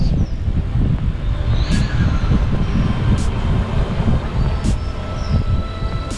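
A train rolls past at a railroad crossing in Chattanooga with a steady loud rumble and clatter, wind buffeting the microphone, while faint whistle-like tones and periodic clicks sound over the din.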